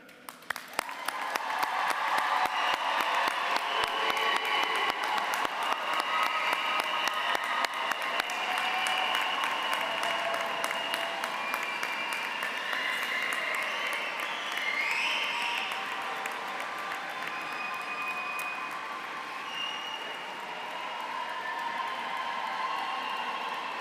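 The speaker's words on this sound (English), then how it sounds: "Will you please applaud them in return?" Graduates clapping for their supporters inside Canterbury Cathedral at a University of Kent ceremony, dense sustained applause from a large crowd that swells quickly, rings in the reverberant space and slowly thins out.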